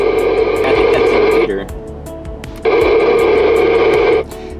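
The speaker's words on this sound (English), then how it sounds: "I believe I'm hearing the repeater, but it's just barely in the static there" A distant 2m VHF radio repeater, received through a mobile antenna about 98 miles away, comes through as bursts of hissy static with a faint tone buried inside, cutting out briefly between two loud stretches.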